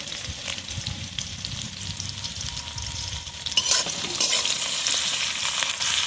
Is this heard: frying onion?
yes